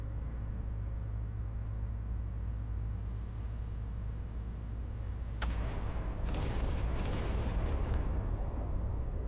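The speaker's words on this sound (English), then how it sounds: "That was a lot of explosions." Artillery shells burst in the naval video game Battleship Command, a sharp blast midway followed by a cluster of rumbling explosions over a steady low roar, with no speech.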